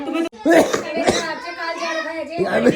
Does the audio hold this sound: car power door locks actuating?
no